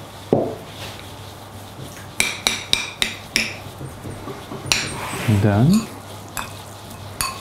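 Salt and pepper are mixed into a filling with a utensil that scrapes and knocks against the bowl in a run of short clatters and taps, with a voice briefly speaking near the end.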